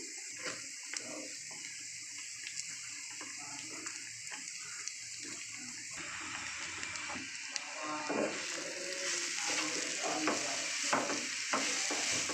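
Finely shredded cabbage fries in oil in a pan, a continuous sizzle with scraping stirring knocks that grows louder and denser halfway through, close by with no talk.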